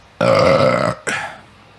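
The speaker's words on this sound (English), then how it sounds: "With the burp." Two loud, close burps in a row, a long rumbling one followed by a shorter second belch, with no talking over them.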